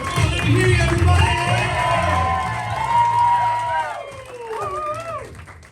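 A comedy club audience in Gilbert, Arizona cheering, whooping and hollering as a comedian takes the stage, loud overlapping high voices that swell, dip and rise again.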